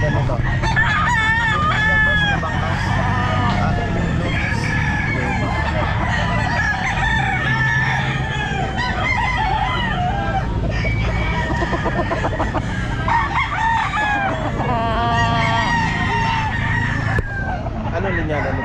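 Many gamefowl roosters crow and cluck at a busy Grotto pet market, their overlapping calls rising repeatedly over a constant crowd din, with people talking in the background.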